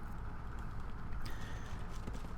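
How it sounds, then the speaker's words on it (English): A horse running in circles in Black Desert Online, its hooves clip-clopping in a quick, continuous rhythm at moderate loudness, with no voices over it. "I could actually set up my horse to specifically run around in a circle"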